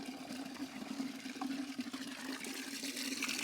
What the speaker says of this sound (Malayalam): നമ്മളിപ്പോൾ വെള്ളം നിറച്ചുകൊണ്ടിരിക്കുകയാണ്